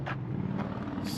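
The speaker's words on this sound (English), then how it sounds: "Excuse the noise with the motorcycle." A motorcycle engine idles nearby outside on a porch at an auction, giving a steady low rumble that continues through the whole moment.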